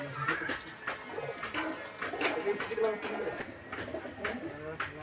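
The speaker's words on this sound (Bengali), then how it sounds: "খুবই ভালো কোয়ালিটির পায়রা" Soft, repeated pigeon coos sound close by at a pigeon sale in Beldanga, mixed with a person talking.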